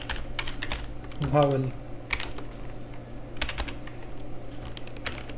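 Someone types on a computer keyboard while writing shell code, with quick clusters of close key clicks and a brief spoken word among them.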